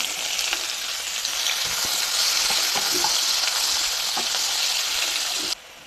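Onions fry in hot oil, already holding cumin and dried red chillies, with a loud, steady, hissing sizzle and scattered soft crackles that continue unbroken before cutting off abruptly near the end.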